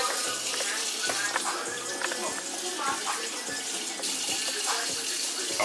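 Turkey drumsticks are rinsed under a running kitchen tap, a steady close rush of water with splashing and dull knocks of the meat in the sink, while someone talks over it.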